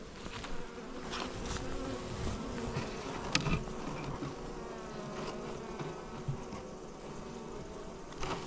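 Close, continuous buzzing of many honey bees, a droning hum with occasional louder passes near by.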